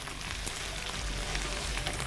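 Tomato paste sizzles as it is sautéed in a pan for a potato filling. A soft, steady crackle and hiss continues close and quiet with no talk.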